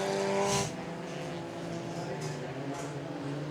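Race cars lap at Tulsa Speedway during a USRA Tuner A feature, engines droning steadily with tonal whine and a louder swell early on, under a commentator's continuous talk.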